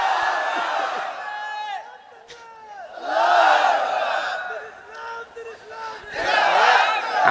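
A large crowd at an outdoor Islamic sermon gathering chants takbir together, with loud collective shouts rising and falling in about three surges amid crowd noise.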